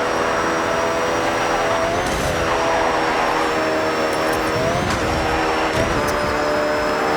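A Lamborghini engine in Forza Horizon holds a steady, loud droning note throughout, with a few small shifts in pitch and no talk over it.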